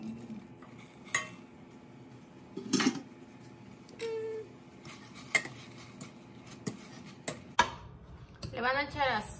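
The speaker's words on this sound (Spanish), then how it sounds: "Entonces ahora sí le echo lo que es la pasta." Dry pasta tipped into a home cooking pot during meal prep, giving a few light clinks and rattles against metal, with scattered utensil taps and a brief rustling burst near the end.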